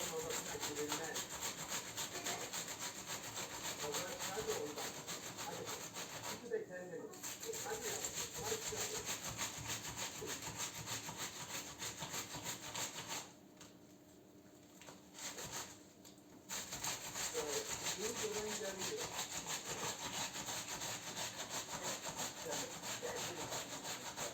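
Continuous soft squishing and rubbing as a dense meatball mixture is kneaded by hand outdoors, close up, with brief pauses and outdoor background noise.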